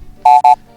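Two short, loud electronic beeps in quick succession, a charge-up warning from the boss in the Doom Delve encounter of Old School RuneScape, with near silence around them.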